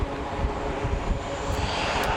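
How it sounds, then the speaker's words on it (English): An F-18 fighter jet coming in to land on an aircraft carrier, a steady, fairly loud engine roar with rumbling low end and wind-like hiss, heard alone for a couple of seconds. "they've been using F-18 fighter jets like the one coming in right here"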